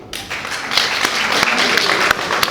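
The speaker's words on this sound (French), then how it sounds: "Applaudissons pour eux." An audience of artisans at a meeting in Benin breaks into applause, a dense burst of hand clapping from a roomful of people, close and fairly loud, with some voices mixed in.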